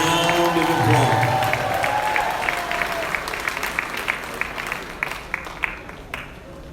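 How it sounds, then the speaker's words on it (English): A banquet audience in Greenwood, Mississippi, breaks into applause, with a voice and some music heard at the start before a crowd of hands claps steadily, the separate claps growing more distinct as it thins. "Let's give our class another great big Greenwood, Mississippi round of applause."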